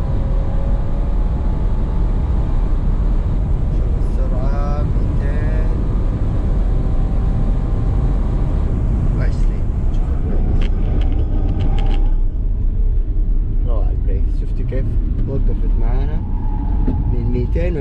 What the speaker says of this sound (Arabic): الله على البوست حق التربوهات صراحه يريح الاعصاب والله.